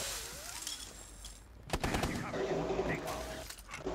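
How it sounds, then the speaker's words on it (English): Rapid bursts of automatic gunfire in the game Rainbow Six Siege, dense overlapping shots dominating the second half over quieter game ambience, with voices talking. "What the fuck are y'all shooting at?"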